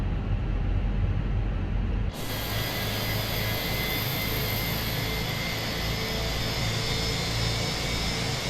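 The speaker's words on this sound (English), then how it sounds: "Roger, starting engine number 2." An Airbus A320 jet engine starting in Microsoft Flight Simulator 2020 winds up with a steady roaring whine, a sudden brighter hiss joining partway through and holding at a constant, loud level.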